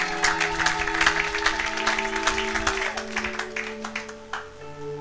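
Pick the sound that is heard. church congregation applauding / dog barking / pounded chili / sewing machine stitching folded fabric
church congregation applauding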